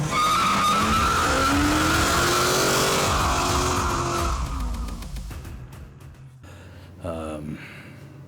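A Chevrolet C10 pickup engine with a temporary straight-piped stainless exhaust roars loud and close, its revs rising and falling, then drops back to a rough, chopping idle.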